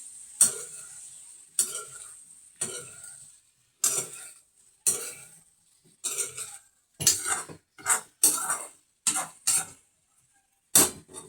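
Pumpkin curry being stirred as it fries in a pan, a spoon scraping the metal in about a dozen distinct strokes that come quicker and closer together toward the end, close and moderately loud, with no talking.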